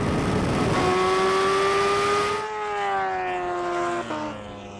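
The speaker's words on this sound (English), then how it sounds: "The rolling race kicks off at 50 miles per hour, and wow, the Kawasaki H2R just takes off." Kawasaki H2R superbike and Bugatti Chiron accelerating hard in a rolling drag race from 50 mph, a loud rising engine whine with climbing tones that falls away as the vehicles pass into the distance.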